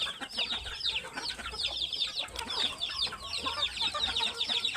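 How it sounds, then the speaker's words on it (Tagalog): Several chickens cluck and squawk close by at feeding time in a busy, continuous chorus, with faint farmyard rustling underneath. "pakain na naman ako ng mga manok"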